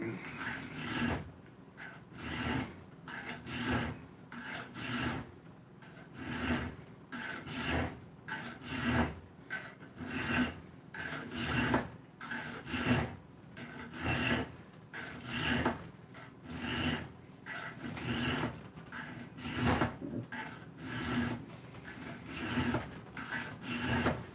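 Repeated strokes of a hand rasp or file across wood, steady rhythmic scraping passes of even length, close and moderately loud, continuing without pause throughout.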